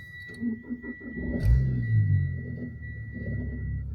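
A Mitsubishi Outlander engine cranks and catches, then settles into a low, uneven idle with a faint steady whine above it; no one speaks.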